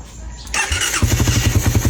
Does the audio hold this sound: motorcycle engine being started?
yes